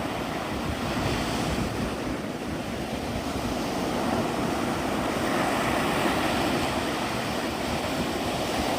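Ocean waves in rainy weather roll in a constant, loud wash of surf, mixed with gusty wind noise against the microphone.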